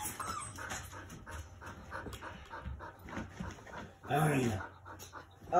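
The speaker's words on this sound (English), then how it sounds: "And then we got a husky puppy being annoying." A husky puppy pants rapidly nearby and lets out a brief whimper, with someone speaking quietly at moments.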